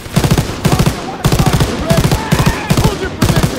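Gunfire in Call of Duty: WWII, loud close bursts of automatic fire in rapid rhythmic volleys with brief gaps, repeating several times in quick succession.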